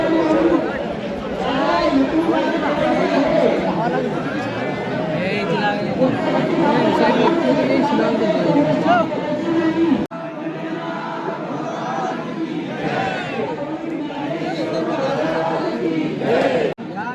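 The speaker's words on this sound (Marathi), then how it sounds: "इथे खूप गर्दी झाली" Dense chatter from a large crowd of pilgrims at the Vitthal Rukmini temple, a steady wash of overlapping voices close by that briefly dips at the ten-second mark, then carries on just as busy.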